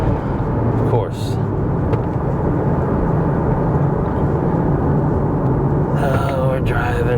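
A Mazda with a Skyactiv engine fitted with aftermarket parts drives on a highway, giving a loud steady roar of engine and road noise throughout, with a voice breaking in briefly near the start and again near the end.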